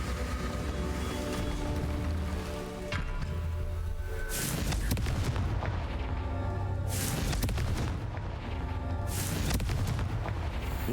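Confringo blasting spells in Hogwarts Legacy explode in heavy booming bursts, several in sequence, with loud crackling impacts and rumbling tails layered over a constant dense background of game sound.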